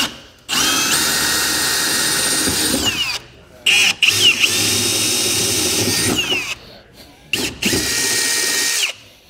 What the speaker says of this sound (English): we'll come up top on our bed and work our way up with drill bits up to